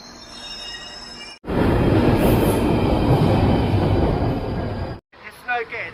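Train at London Bridge station on a busy Friday night, a loud steady rumble of wheels and carriages rolling in for several seconds, with squealing tones at the start and end.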